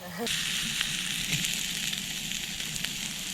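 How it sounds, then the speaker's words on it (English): Sausages and onions frying in a pan over a campfire while wild camping in UK woods, a steady close sizzle with soft crackles and faint scraping throughout. "So we've got our sausages cooking on the fire and our onions, of course"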